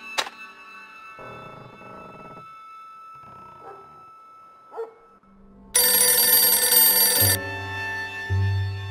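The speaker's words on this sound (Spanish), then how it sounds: "Por favor, permanezca atento al teléfono, Arno. Haré dos llamadas y volveré a llamarle" In the adventure game Dracula 3: The Path of the Dragon, a telephone rings in several separate bursts with pauses between them. A louder, sustained tone follows, and no one speaks.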